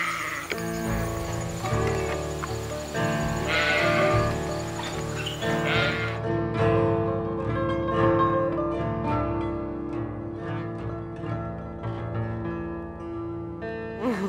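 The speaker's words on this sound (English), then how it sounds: "Little sheep." Sheep bleat repeatedly over about fourteen seconds, a dense chorus of overlapping wavering calls, close and loud, with a steady insect-like buzz in the background and no talking.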